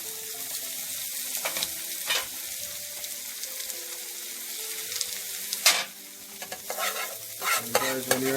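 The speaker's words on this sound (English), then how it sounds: "I'm gonna add my garlic in, my scallion. I'm gonna saute them" Garlic and scallion sizzle softly in a pan, with a quiet steady fry broken by the clinks and scrapes of a spatula stirring, the sharpest scrape coming near the end.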